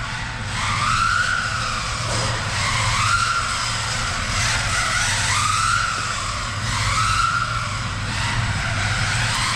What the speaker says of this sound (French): Ce qui est bien avec ces moteurs bruyants, c'est que tu entends bien le moteur là.